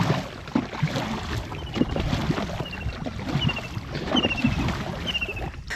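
A round coracle is paddled across a lake, with soft irregular splashes and knocks of the oar against a background of wind and water; faint bird calls chirp now and then.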